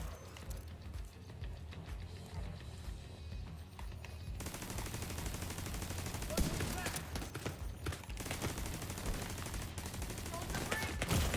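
Gunfire in The Division 2, a shooter video game: sustained bursts of rapid automatic fire and scattered shots, loud and dense, over background game sounds.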